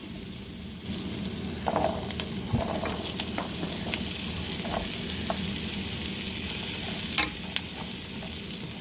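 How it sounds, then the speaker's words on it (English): Turnips frying in ghee or butter in a pan for a keto breakfast hash, giving a constant soft sizzle with occasional light scraping stirs, close but fairly quiet. "cook that until the turnips are browned and softened"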